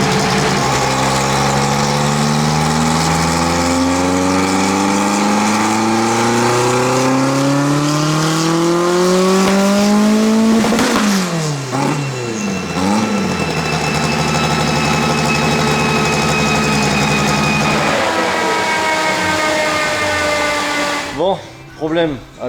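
A Renault R5 Turbo engine revs hard through repeated test pulls, its loud tone climbing steadily in pitch, dropping sharply, then rising again, with the turbo whining on top before the engine cuts to quiet at the end.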